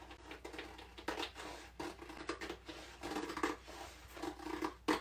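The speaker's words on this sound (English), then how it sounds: "I like to just cut it with a pair of scissors." Scissors snip through Tempaper wallpaper in a quick run of short crisp cuts, close and fairly quiet, with irregular rhythm and no talking.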